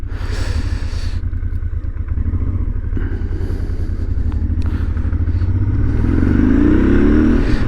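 A 1999 Honda Transalp 600V motorcycle accelerates hard, its engine loud and close with a steady droning roar that climbs in pitch toward the end, with some mechanical clatter along the way.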